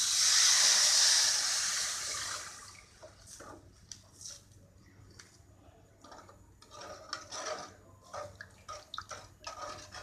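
Water pours with a hissing splash into a cooking pan of egg and tomato curry for a couple of seconds, followed by quieter bubbling, dripping and sizzling close by.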